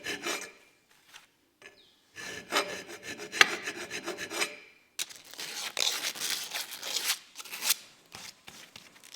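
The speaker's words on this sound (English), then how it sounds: "I'm going back to that dentist drill and a file and some sandpaper." A hand file rasps against a metal Burman steering box casing from an Alfa Romeo Spider 105, in short bursts of scraping strokes with brief pauses between them, close and fairly quiet.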